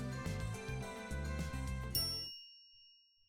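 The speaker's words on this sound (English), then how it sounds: "Chime signals our arrival on the 5th floor." In a video game, an elevator chime rings out as it arrives at the 5th floor: a bright, clear ding over a music bed, with its tone ringing on and fading into silence.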